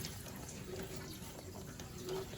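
Tap water runs steadily, rinsing a new Philips HD9306 electric kettle being hand-washed at a sink, a continuous close splashing flow with no talk.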